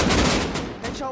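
Gunfire in Rust Console Edition, a short loud burst of rapid shots packed closely together.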